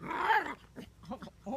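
Six-week-old British Labrador puppies give brief yips and small growling whimpers, a loud burst at first and then softer scattered calls, close and with no talk.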